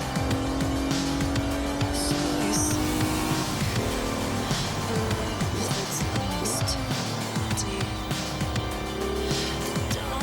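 A Mitsubishi GTO of roughly 250 to 300 horsepower races in the Forza 7 video game, its engine droning steadily with tire squeal and skidding running throughout at constant loudness, with no talk over it.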